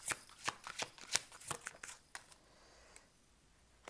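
Shaman oracle cards shuffled and drawn by hand, a quick run of crisp riffling flicks and slaps that thin out into a few soft, isolated taps near the end, close up with no speech.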